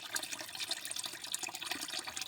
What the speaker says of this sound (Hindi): ये चला हुआ अपना परमानेंट पानी, ये देखो कहाँ से आ रहा है।